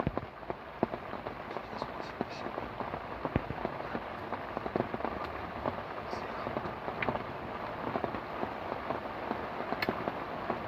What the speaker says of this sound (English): That's 24 hours of rain almost.